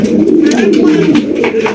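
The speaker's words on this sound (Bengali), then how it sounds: "চমৎকার একজন আর্চেঞ্জেল কবুতর, ব্ল্যাক গোল্ড আর্চেঞ্জেল।" A Black Gold Archangel pigeon, part of a breeding pair, coos in a low, close, continuous warbling murmur that breaks off abruptly at the end.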